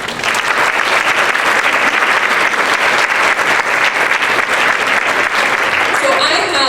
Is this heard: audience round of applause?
yes